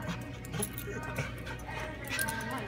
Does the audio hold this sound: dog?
yes